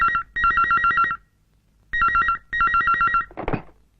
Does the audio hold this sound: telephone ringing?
yes